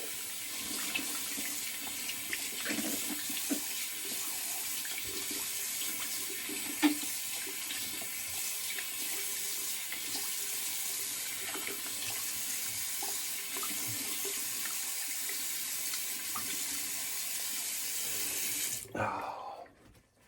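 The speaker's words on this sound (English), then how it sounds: "cold water rinse." Cold tap water runs steadily into a sink for a rinse during a wet shave, a constant close hiss and splash lasting about nineteen seconds before it is shut off abruptly.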